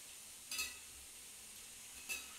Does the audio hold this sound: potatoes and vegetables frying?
yes